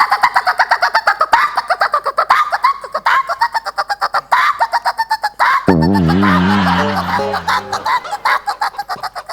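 A man imitates a koel's call, a run of rising whistled and hooting voiced notes, then a long buzzing warble, close and loud, with brief laughter and chatter between phrases.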